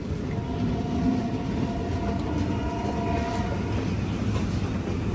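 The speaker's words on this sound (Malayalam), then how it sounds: "പെരമ്പൂർ റെയിൽവേ സ്റ്റേഷനിലേക്ക് ഇതാ നമ്മുടെ ട്രെയിൻ എത്തിയിരിക്കുകയാണ്." The Kaveri Express, a passenger train from Mysuru to Chennai, pulls into Perambur railway station with a steady, loud rumble of rolling wagons and faint tonal squeals, heard alone without any talk.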